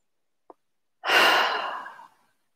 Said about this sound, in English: Just breathing out.